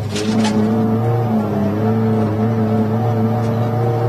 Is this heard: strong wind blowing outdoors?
no